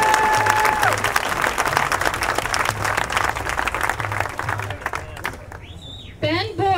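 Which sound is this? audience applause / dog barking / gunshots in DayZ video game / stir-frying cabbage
audience applause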